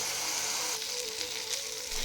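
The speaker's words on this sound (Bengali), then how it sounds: "চালটা ভাজা ভাজা হয়ে এসছে মোটামুটি" Gobindobhog rice fries in a pan with a steady, close, dry sizzle that holds evenly throughout, with no talking.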